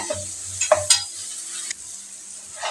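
Stirring masala for crab curry in a hot pan, with soft scraping strokes over a steady sizzle of frying.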